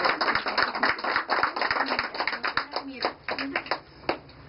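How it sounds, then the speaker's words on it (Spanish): A small group claps at a women's association gathering, sparse uneven hand claps fairly close by, with people talking over and between them. "Vamos a un aplauso."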